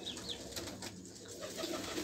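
Pigeons coo softly in a loft in Faisalabad, with a few quiet, low calls over a faint hum of background noise and no talk.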